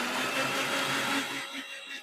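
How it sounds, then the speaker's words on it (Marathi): A kitchen mixer grinder whirs continuously as it grinds coconut and tomato for Konkani tomato saar, a steady close motor drone that dips near the end. "ते ह्याच्यात मिक्सरला लावायचे."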